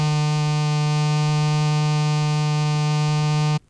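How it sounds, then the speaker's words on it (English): A steady electrical buzzer drones loud and continuous with a strong harmonic tone for about three and a half seconds, then cuts off abruptly. "or an electrical buzzer"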